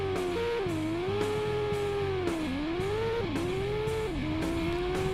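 A rally car in the V-Rally 97 racing video game spins out, its engine tone sliding up and down in pitch with steady revving and wavering whine, loud and continuous over the game's background sound.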